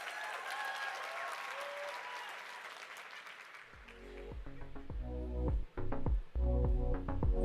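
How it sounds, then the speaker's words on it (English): An audience at a convention in Las Vegas breaks into loud applause, steady and sustained clapping that swells and continues after a quieter stretch with background music. "let's give this video a big round of applause"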